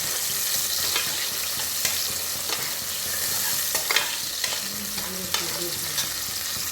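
Onions and tomatoes sauté in a pan for goat lung gravy: a constant sizzle broken by repeated scraping strokes of a spatula roughly every second, close and clear, with no speech.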